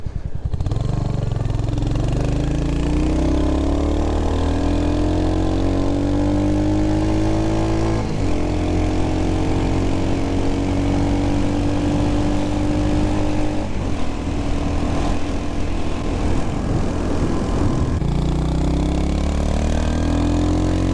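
A Royal Enfield Hunter 350 single-cylinder motorcycle engine revs hard and close, pitch climbing and holding steady against the rev limiter in several long pulls, with brief drops between each run and constant wind rush underneath.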